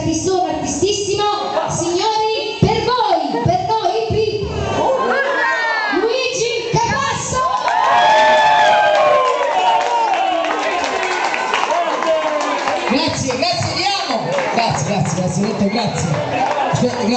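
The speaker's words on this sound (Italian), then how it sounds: "Signore, accogliamo con un forte applauso questo artista, artistone, artistissimo." Guests at a wedding reception applaud and cheer for a singer: a lively, crowded mix of clapping, shouts and children's voices fills the room continuously, with people talking throughout.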